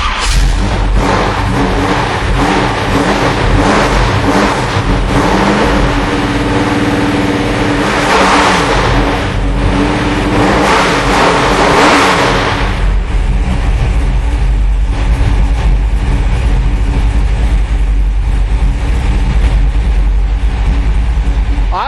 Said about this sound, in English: Hey, Tony, let's hear you fire that baby up